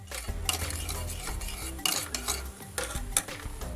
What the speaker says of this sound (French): moutarde en remuant à l'aide d'une cuillère